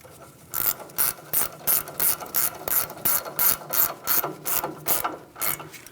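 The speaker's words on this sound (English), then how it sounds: "We'll start our mounting nut into position." A hand ratchet tightens a front strut mounting nut on a Ford Transit 250, giving about a dozen rapid, evenly spaced clicking bursts, loud and close with brief pauses between strokes.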